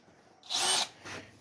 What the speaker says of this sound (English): If you work the drill back and forth, you have it on slow speed.